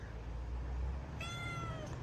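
A jealous cat gives one short, faint meow partway through, over a steady low room hum.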